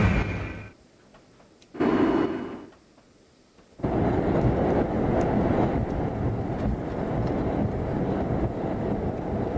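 NYC MTA B/D line subway train crossing an elevated bridge during a snowstorm, with quiet gaps giving way to a loud, continuous rumble and rattle of the cars on the tracks.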